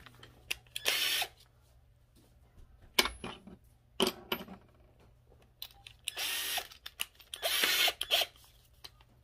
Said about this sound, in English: You're gonna put that in place and screw it in with these screws.